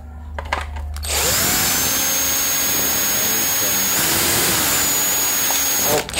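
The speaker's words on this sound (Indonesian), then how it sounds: "bor dulu." A power drill bores a hole in a podium microphone part. After a brief stop-start, the drill spins up into a loud, close, continuous whine that holds for about five seconds before cutting off.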